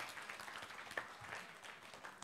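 A church congregation at an English Sunday service claps hands to the Lord, faint scattered clapping heard at a distance for a couple of seconds.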